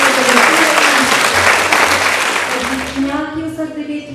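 A hall audience gives sustained, dense applause for the top pupils of a primary school at a youth awards event. The clapping is loud and continuous, with a voice speaking over it toward the end as it thins.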